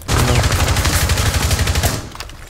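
Rapid automatic gunfire in a shooter video game, a loud, close burst of quick repeated shots lasting about two seconds, then trailing off.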